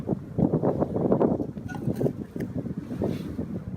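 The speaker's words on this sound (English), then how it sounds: "Just trying to get out of the wind." Wind gusts across a winter campsite in Frontenac in March, a close, rough low rumble buffeting the microphone in uneven waves.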